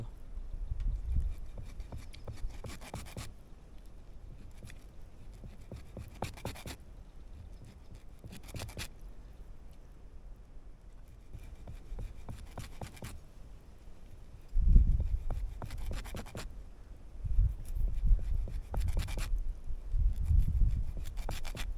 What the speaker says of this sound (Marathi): ह्याला आपण छोटे छोटे हे मारू असे कट मारू असे एवढे